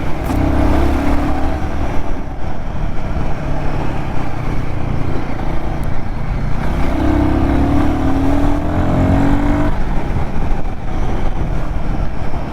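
Royal Enfield Guerrilla 450 motorcycle riding on a road in Tamil Nadu, a loud continuous engine drone with steady wind rush and rising and falling tones, close throughout.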